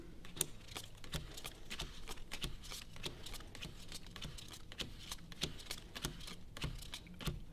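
Playing cards dealt one at a time onto a pile during a close-up magic trick, a steady series of soft, sharp flicks and slaps at close range with no talking.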